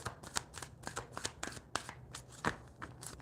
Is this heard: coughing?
no